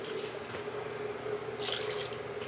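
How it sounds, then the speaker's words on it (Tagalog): Water pours steadily into a pot of corned beef, a continuous close splashing and trickling stream with no talk over it. "Lalagyan natin ng tubig yan."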